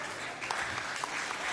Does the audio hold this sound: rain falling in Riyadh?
no